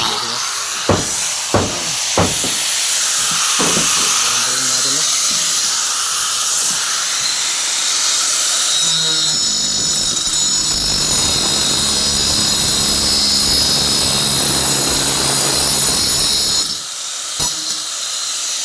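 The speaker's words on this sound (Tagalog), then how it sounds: "Kaya ginagamitan natin ng ano yan, grinder." An angle grinder cuts through large, finger-thick steel rivets. A few sharp knocks come first, then a loud, sustained high-pitched whine and hiss that cuts off abruptly near the end.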